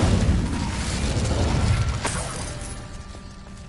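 A fire spell cast in Hogwarts Legacy, a loud rumbling whoosh and burst of flame that fades away over a few seconds.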